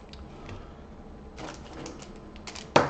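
Dice from the board game Vengeance set down on a table, with a few light clicks and clatters, close and quiet, and a sharper knock at the end.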